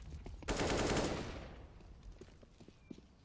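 Rapid automatic gunfire bursts out loud in a CS:GO professional match on the map Cobblestone, a dense volley that trails off into scattered faint shots and footsteps.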